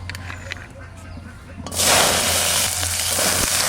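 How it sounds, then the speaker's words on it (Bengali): Garlic cloves dropped into hot oil after frying chilies, first quiet pan noises, then a sudden loud hissing sizzle that swells and holds steady to the end. "ওই তেলের মধ্যে আমি রসুনগুলো ভেজে নেব"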